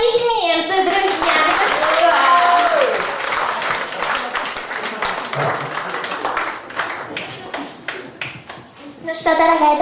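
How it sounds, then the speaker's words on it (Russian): An audience applauds at a birthday celebration sketch with dense, sustained clapping that thins out toward the end while voices speak over it. "Аплодисменты, друзья."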